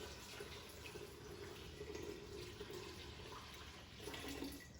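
Filtered water running from a kitchen tap into a stockpot for a vegan broth, a steady faint gush that holds on for about five seconds with no talking.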